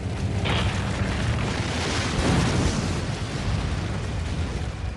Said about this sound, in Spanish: El fenómeno volcánico más poderoso que ha presenciado la humanidad acaba de sacudir la Tierra.